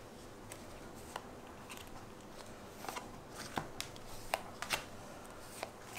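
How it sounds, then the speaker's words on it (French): Mermaid Tarot cards are shuffled and handled, giving soft papery riffles with scattered sharp flicks and snaps over a quiet room background, with no talking. "je vous montre quelques cartes."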